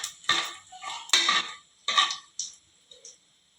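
Spices being mixed into hot oil in a pan for vegetable pulao: a few close, separate scraping strokes of a spoon against the pan, each short and fairly loud, with quiet gaps between and no steady sizzle.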